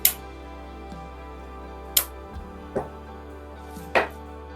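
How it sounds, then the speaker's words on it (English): Pruning shears snip pieces off a spray of eucalyptus, giving a series of sharp, isolated clicks spaced about a second apart, close and fairly loud over a low steady hum. "you're going to cut this off the bush, just like this. And just take and cut each piece off."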